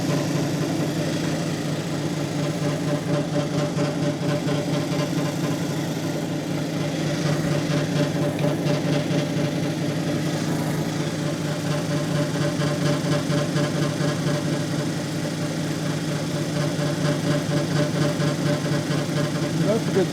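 A lapidary polishing wheel runs steadily while polishing Montana moss agate, giving a loud, continuous motor hum with a faint rhythmic pulsing throughout.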